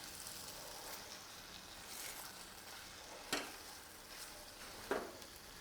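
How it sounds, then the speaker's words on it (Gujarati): Sautéed okra tipped into a thin curd gravy in a kadai, soft continuous sizzling with a few sharp spoon scrapes and clinks against the metal as it is stirred. "તો હવે જે આપણે સાંતળી રાખેલો ભીંડો છે ને એ કઢાઈમાં ઉમેરી દઈશું અને મિક્સ કરી લેશું"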